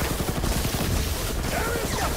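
Dense, continuous bursts of rocket fire and explosions like fireworks in the Guardians of the Galaxy video game, loud and sustained over a busy combat mix.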